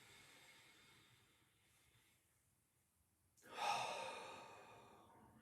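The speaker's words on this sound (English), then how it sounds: "Big breath in and out." A deep breath in and out during a meditation and energywork session, a quiet drawn-in breath followed by a sudden louder, airy exhale that fades slowly, close and alone.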